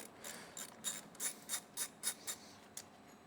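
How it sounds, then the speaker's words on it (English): Wrench loosening the negative terminal on a Subaru Outback car battery: a quick series of about nine sharp ratcheting clicks, close and fairly faint, with no talking. "We're gonna take the negative terminal off this battery."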